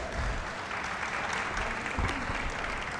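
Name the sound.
audience applause after a performance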